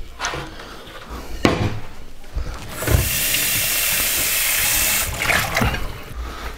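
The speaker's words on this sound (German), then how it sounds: "Den habe ich mir eben noch mal heiß abgespült, weil sonst wäre er ganz kalt gewesen." Hot tap water runs onto a pasta plate being rinsed, with a steady hissing rush of a couple of seconds framed by clattering knocks of the plate against the sink.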